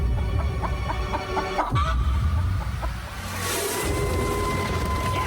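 A chicken clucks in short, repeated near bursts over a low rumbling background, followed by a brief louder rustle.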